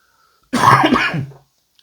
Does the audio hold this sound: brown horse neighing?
no